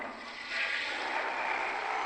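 A toilet flushes with a steady, close rush of water that swells after a moment and keeps pouring to the end, with no voices.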